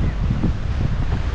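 Rough sea surf and strong wind at Kodimunai beach near Colachel, Kanyakumari, on a cloudy day with a storm warning: a loud, continuous roar of waves and wind buffeting the microphone.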